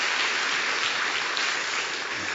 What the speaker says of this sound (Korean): 우리 박수로 한번 축하하겠습니다